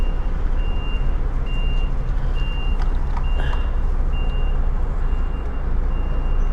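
A truck's reversing alarm sounds a steady series of evenly spaced high beeps over a loud, constant engine rumble, the vehicle turning sharply as it backs up.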